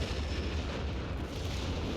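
Artillery shells strike units in a 4v4 Company of Heroes 3 match on the Oasis Depot map, producing a steady, dense, low rumble of blasts and explosions that stays at an even level for two seconds.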